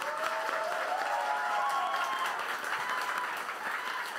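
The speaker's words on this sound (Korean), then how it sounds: "박수 부탁드리겠습니다." Steady audience applause at a book talk with an author, a dense continuous wash of clapping from a crowd in a reverberant hall, held at even loudness throughout.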